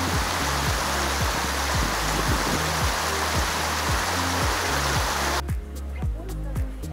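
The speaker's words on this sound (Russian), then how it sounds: "Набираем воду у источника святого с серебряной водой целительной." Water pours steadily from a holy spring in the Altai mountains, a continuous loud splashing rush close by; it drops off abruptly near the end, leaving quieter trickling.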